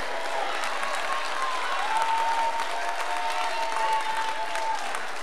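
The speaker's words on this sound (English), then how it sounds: "Come on, stand up and clap your hands like God's powerful." A standing church congregation claps hands at a worship service, sustained and energetic rhythmic clapping with occasional cheers and voices rising above it, close and steady.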